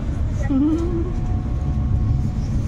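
Amritsar Mail 13006 rolls along with a steady low rumble and continuous carriage noise throughout, with a brief tonal whine rising near the start, heard from inside the train.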